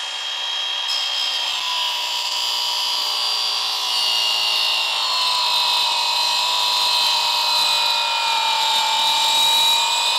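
A power tool cuts through an aluminum handrail with a steady, loud, high-pitched whine and grinding that holds for the full ten seconds, close up and alone.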